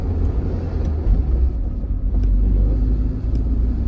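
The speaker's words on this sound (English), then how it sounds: "You can hear the exhaust." A car's exhaust rumbles steadily from inside the cabin while driving along a small road, a low continuous drone with no voices.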